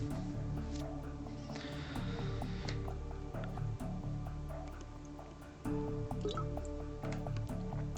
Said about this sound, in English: Nothing like a good old water refill.